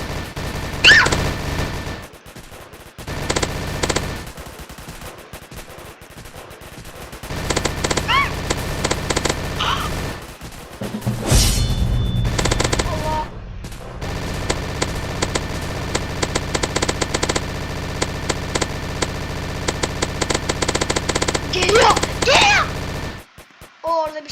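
Rapid bursts of gunfire in a zombie shooting video game, repeated clattering volleys broken by short pauses, loud and close, ending abruptly near the end.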